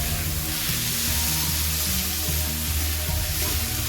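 Tomato frying in a pan with onion and garlic, a steady sizzle running continuously throughout at a constant moderate level.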